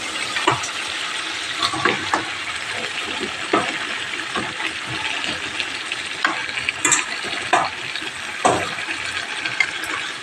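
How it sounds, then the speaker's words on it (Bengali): Meat frying with spices in a kadai, a continuous sizzle broken by repeated stirring and scraping strokes at an irregular rhythm, close and fairly loud with no voices. "এইবার মাংসটা দিয়ে দিলাম, এইবার ভালো করে কষাতে হবে।"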